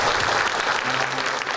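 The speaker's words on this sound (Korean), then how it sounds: "격려 박수 한번 합니다" A church congregation claps in encouragement during a service, a full, dense wash of applause from many people filling the room, steady and loud for the whole moment, with a faint voice briefly audible underneath.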